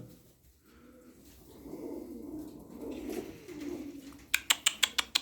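Turkish tumbler pigeons give soft, low cooing over several seconds at moderate distance, then a quick run of sharp, clicking bursts closes the sequence.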